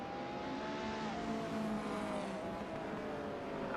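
McLaren F1 Longtail race car lapping Laguna Seca in a racing video game, a loud sustained engine howl with rising and falling pitch and a faint tire squeal, with no talking.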